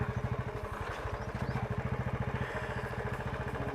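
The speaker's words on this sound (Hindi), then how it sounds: "आज बाइक की सवारी हो रही है" A motorcycle engine chugs in a steady fast pulsing rhythm throughout a bike ride, close and fairly loud with a rattling clatter, with no talk.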